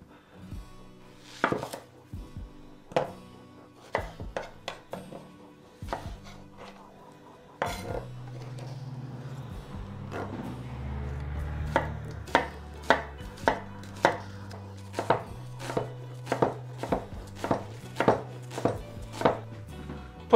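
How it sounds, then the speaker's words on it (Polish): An onion being diced with a kitchen knife on a cutting board, giving steady rhythmic chops close by, sparse at first and then faster with heavier board thuds in the second half, with no talking. "Cebulę kroję w kostkę."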